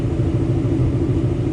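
A coyote-swapped 2007 Mustang GT, untuned, idles with a deep, loping, pulsing rumble, loud and close, no voices.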